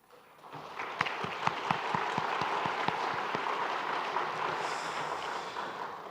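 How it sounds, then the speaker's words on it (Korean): A church congregation at a Sunday service claps to welcome a visitor from America. A few sharp claps start it, then dense applause fills the room steadily, heard from some distance and fairly soft. "박수로 환영하도록 하겠습니다."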